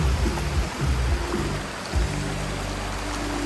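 Flowing stream water gives a constant close rushing wash, dense and fairly loud for a few seconds, with faint low rumbles beneath and no voices.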